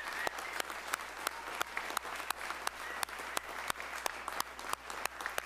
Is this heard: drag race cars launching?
no